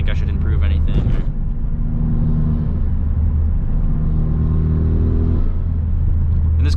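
A 2017 Hyundai Veloster Turbo fitted with a K&N intake, its engine rumbling steadily while driving, with a rising whir mid-clip; a person talks briefly at the start and end.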